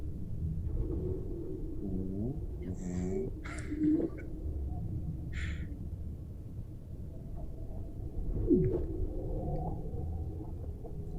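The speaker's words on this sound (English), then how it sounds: "this is the sound of a frozen lake" Ice on a frozen lake sings with eerie sweeping whistles, descending chirps and low rumbling booms over a steady murmur, moderately loud, with no talking.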